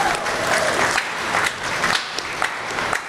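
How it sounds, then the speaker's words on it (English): Crowd at a livestock showmanship competition gives a steady round of applause, a dense wash of many hands clapping at once throughout. "Give him a round of applause."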